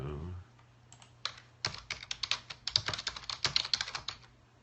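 A computer keyboard rattles with fast, irregular typing and clicking, close and distinct, building from a few taps into a continuous flurry of keystrokes.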